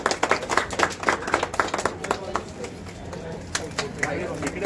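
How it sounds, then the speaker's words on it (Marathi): Scattered, uneven hand claps from a small gathering at a Satyanarayan puja in a chawl welcome a guest, with sharp individual claps and a busy, noisy background. "टाळ्या वाजून स्वागत करा."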